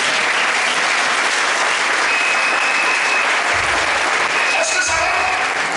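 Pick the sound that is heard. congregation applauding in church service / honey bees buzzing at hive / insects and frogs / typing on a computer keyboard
congregation applauding in church service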